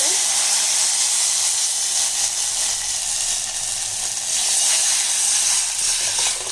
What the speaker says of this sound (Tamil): இப்போ நல்லா இந்த கடுகு பொரியுது